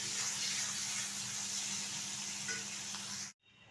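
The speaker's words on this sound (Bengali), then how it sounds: "বেগুন দিয়ে ইলিশ মাছের তেলটা কিন্তু ভাজা" Hilsa fish oil fries with eggplant in a pan, a steady close sizzle hissing without pause before it cuts off abruptly.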